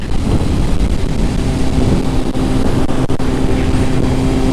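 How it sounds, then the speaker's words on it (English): Honda motorcycle engine pulling hard in first gear during a power wheelie, a loud continuous roar with a steady drone and rough low rumble throughout, mixed with wind buffeting and no talk. "Just had a little power wheelie in first gear."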